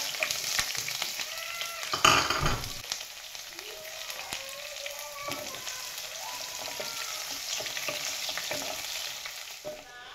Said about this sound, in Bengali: পেঁয়াজটা আমাদের ভাজা ভাজা হয়ে গেছে